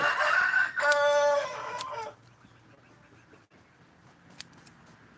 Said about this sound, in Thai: ไก่เหยียบมาเลย